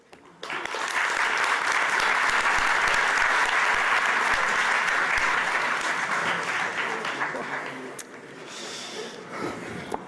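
A large audience at a Harmony Week 2018 school debate on cultural diversity breaks into loud, sustained applause for the panellists, swelling quickly, holding for several seconds, then thinning out toward the end.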